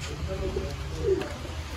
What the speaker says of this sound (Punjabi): ਫਿਰ ਦੋਸਤੋ ਸ਼ੇਖਾਂ ਵਾਲੇ ਕਾਲੇ ਮੂੰਹ ਵਾਲੇ ਕਬੂਤਰ ਨੇ